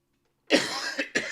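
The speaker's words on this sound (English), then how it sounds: "I'm sorry, guys, I don't know why this cough coming." A person nearby coughs harshly: one long rasping cough, then two shorter bursts in quick succession, with no talking around it.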